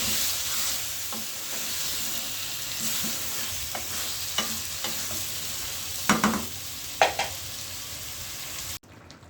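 Steamed eggs and boiled potatoes being stirred in a frying pan, a continuous sizzle with intermittent scraping clatters of the spatula growing sharper toward the end, close and fairly loud, no talking.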